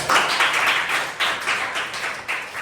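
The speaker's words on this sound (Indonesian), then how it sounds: "Good job, tepuk tangan." A few people clap their hands close by in a small group, giving a quick uneven burst of rhythmic claps that rises and falls in pulses with no talk over it.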